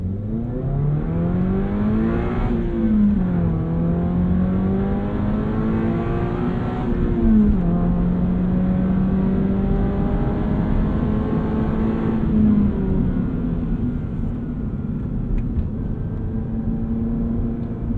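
A sports car engine revs hard at full throttle through the gears, pitch climbing in long sweeps past 7,000 RPM with brief dips at each shift, loud and sustained throughout.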